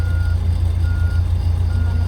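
A loader clearing typhoon debris from a road sounds a steady, loud reversing beep over a constant low engine drone. The beeping is close and continuous, and no one speaks.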